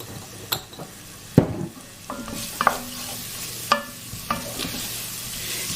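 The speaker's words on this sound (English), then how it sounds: "We're just going to sweat out these onions for a few minutes." Onions and chili peppers sweat in a pan, giving a soft sizzle broken by a few sharp spoon scrapes and clinks against the pan.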